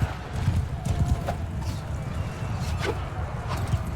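Horses gallop in a Mount and Blade II Bannerlord battle, a dense rumble of many hoofbeats with occasional sharper knocks, steady and fairly loud across the whole stretch.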